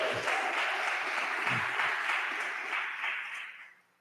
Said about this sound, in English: Come on, let's give God another hand clap